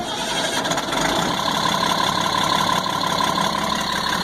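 A 1998 GMC C8500 truck's Cat 3116E diesel engine, suspected of a bad ECM, cranks briefly and then runs at a steady, loud idle close by.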